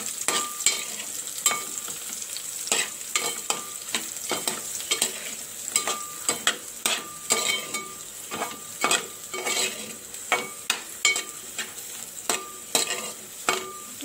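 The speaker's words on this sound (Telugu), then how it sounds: "మిల్ మేకర్స్ వేసుకోవాలి. కాస్త ఫ్రై చేసుకోవాలి వీటిని నార్మల్ ఆయిల్లో" Soaked soy chunks fry in ordinary oil under a steady background sizzle, punctuated by frequent sharp scrapes and clinks of a spatula stirring against the pan, irregular and close.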